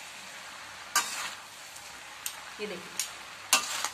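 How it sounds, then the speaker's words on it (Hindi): Two large spoons toss and mix paneer noodles, giving several crisp clinks and light scrapes with gaps between them over a faint sizzle. Someone speaks briefly. "तो इसको मिलाने के लिए मैं दो बड़े चम्मच लूंगी और इनको हमें ऐसे मिलाना है।"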